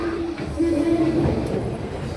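Steady low rumble and hum from inside a departing train on a Konkan-to-Mumbai run, with a faint tonal whine rising from the wheels and motors, heard continuously from onboard beneath background murmur.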